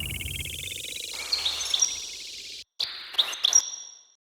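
Bird chirps sampled into a house music track: bright, repeated high tweets over a low bass thump that drops out, then a short silence and a few more chirp bursts that fade away.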